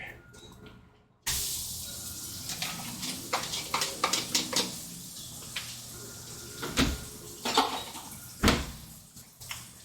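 Chopped onion dropped into a pan with a little hot oil for halibut chowder, crackling and hissing in a busy, uneven texture with scattered sharp clicks and utensil knocks, fairly close and moderate in level.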